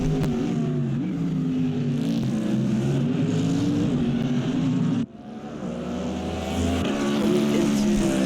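A Lexus and a Ford Mustang GT race car compete at the Bahrain circuit, their engines making a loud, sustained roar whose pitch rises and falls with gear changes. The sound drops out briefly near the middle, then builds again.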